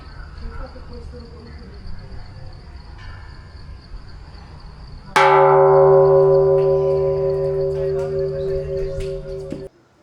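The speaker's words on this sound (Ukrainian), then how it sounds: "загадуємо бажання і стукаємо в цей дзвін" A large temple bell at a Thai temple on Koh Phangan is struck once midway and rings out with a long, sustained hum, over a quiet background with faint insect chirps.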